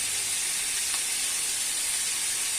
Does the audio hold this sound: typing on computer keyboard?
no